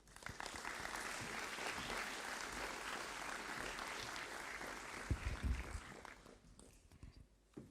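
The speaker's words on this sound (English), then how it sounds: "Please give a final round of applause to all those who have contributed to tonight." A school audience at an academic awards ceremony gives a final round of applause, sustained clapping from many hands that holds steady for several seconds before thinning out into scattered claps and a few low thumps near the end.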